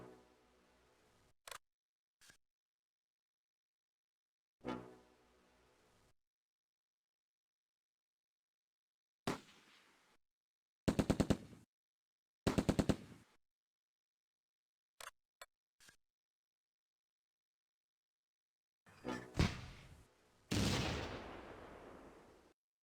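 Bursts of automatic weapon fire from a machine gun in the Close Combat wartime strategy game, short separated volleys and single cracks with silent gaps, the later bursts louder and denser.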